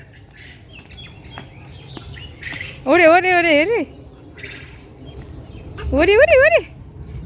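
Two bursts of high, warbling tailorbird chirps ring out close by, each under a second long, with a voice chattering around them.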